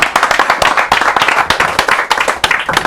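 Close, distinct handclaps from a press conference audience in Paris, a small group clapping in an uneven patter of sharp individual claps.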